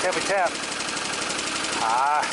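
A Kohler Command engine runs on both cylinders after an ignition coil repair, a steady loud idle with a faint rapid tapping in the rhythm, while someone talks over it.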